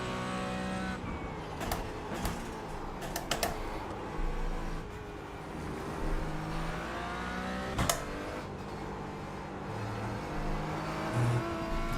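A Mazda MX-5 engine in a racing video game revs and shifts through gears with a continuous loud whine, rising and falling pitch, and short sharp transients as it races through a community event.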